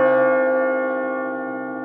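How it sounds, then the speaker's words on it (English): A voice cross-synthesized with inharmonic bell frequencies on a 1998 Kyma 4.5 sound system gives a sustained, shimmering bell-like tone with steady partials. It rings loud and alone, then slowly fades. "This example crosses the amplitudes from my voice with the inharmonic frequencies of a bell"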